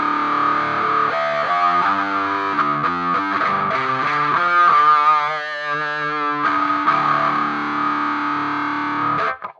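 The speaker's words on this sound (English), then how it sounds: "So basically what you're hearing is the filter." An instrument signal runs through an envelope filter on a Quad Cortex, a distorted, effects-heavy tone with repeated notes whose sweeping filtered harmonics rise and fall, loud and sustained before cutting off at the end.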